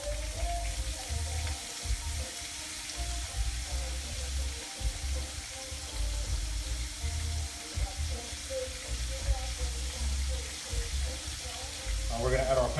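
Carrots and peppers frying in oil for Jamaican escovitch fish, a continuous moderate sizzle with low bubbling that swells slightly near the end.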